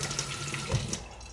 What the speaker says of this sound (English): Drains well, water works well.